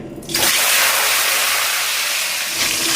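A fish head sizzles and spits in hot oil in a wok, a loud, steady broadband hiss that starts abruptly after a brief quiet moment and holds close up throughout.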